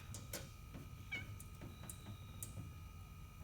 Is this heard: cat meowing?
yes